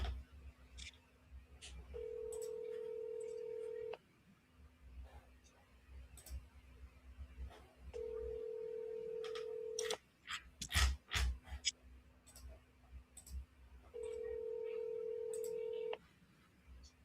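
A telephone dials and returns a busy signal. Tones repeat in steady cycles, with quick dial-tone blips and clicks between them and a low hum underneath, heard faintly and close.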